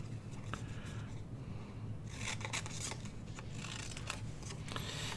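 Scissors snip through paper to cut out a label, quick close crisp cuts coming in short clusters, quiet and alone.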